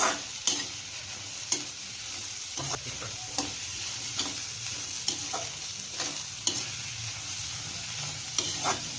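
A spoon scrapes and stirs through sizzling onions in a pan for a potato-aubergine dish, with regular clinks about once a second over a steady frying hiss.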